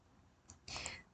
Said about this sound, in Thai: เราก็จะคลิกดาวน์โหลด หรือพิมพ์ไว้นะคะ